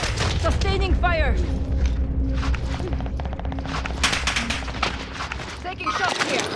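Gunfire in a battle royale shooter: rapid automatic bursts and booming impacts, dense and loud throughout, mixed with game effects and voices talking over the action.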